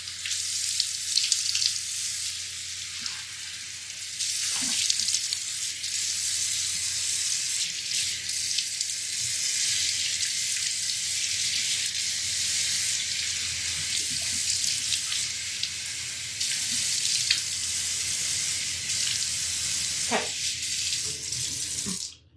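Water running from a sink tap while a face is rinsed, a steady hissing stream with splashes and brief interruptions as hands move through it, continuous for over twenty seconds, no talking.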